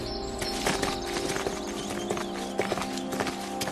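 A ridden horse wearing a saddle blanket clip-clops along with quick, repeated hoof strikes, loud and close over a busy, noisy background.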